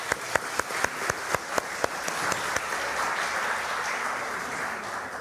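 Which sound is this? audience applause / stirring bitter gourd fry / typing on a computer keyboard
audience applause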